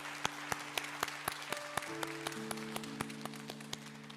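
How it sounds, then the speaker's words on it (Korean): A church congregation applauds steadily during a worship service, with sharp claps ringing out over a continuous patter, while a sustained organ or keyboard tone hums underneath. "우리 서로에게 축복의 박수 함께 나누도록 하겠습니다"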